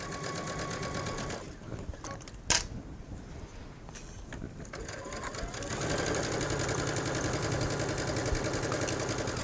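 A sewing machine stitches around the edge of a V-neck facing in bursts, with a sharp click between runs and then a steadier, louder run of fast rhythmic stitching.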